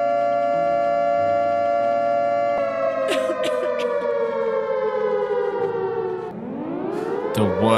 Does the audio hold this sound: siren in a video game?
yes